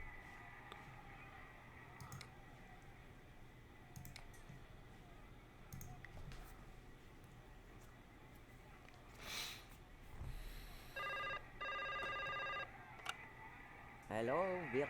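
Telephone ringing in the Broken Sword 5 adventure game: a bright repeated electronic ring in two bursts over faint game ambience and background music, followed by a sharp click as the call connects.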